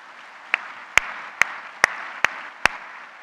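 Breakfast-event crowd claps in appreciation of teachers and administrators, a low continuous patter of distant applause punctuated by six crisp, evenly spaced nearby claps.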